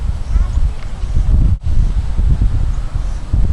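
Wind blows outdoors on a fishing outing, buffeting the microphone with a steady low rumble that swells in gusts throughout, with one momentary dropout partway through.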